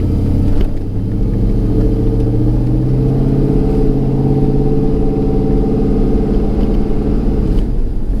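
A 1998–2002 F-body car fitted with a 3600 stall converter revs hard and then upshifts, its engine droning loud and close in a steady rumbling tone that holds after the shift.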